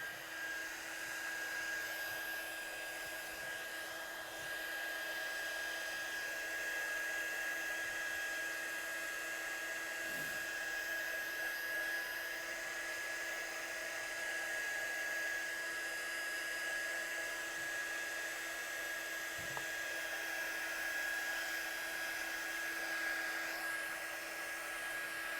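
A heat gun dries purple ink splats on a piece of craft artwork. Its steady, continuous whirring blower with a high whine runs unbroken and close throughout.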